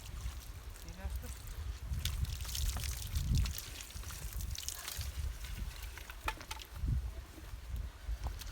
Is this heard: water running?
yes